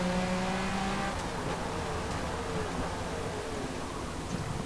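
A Porsche race car in Forza Motorsport screams at close to 9,000 RPM, a steady, loud, high-pitched engine howl that holds for the whole stretch with no talking.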